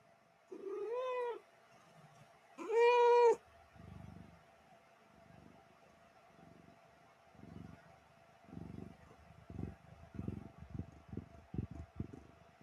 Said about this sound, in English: Oh, thank God it was a cat and not a baby.